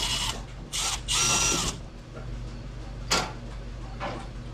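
A power screwdriver whirs in several short bursts of a second or less, removing screws from a GE dryer during a teardown, close and fairly loud against a quiet background.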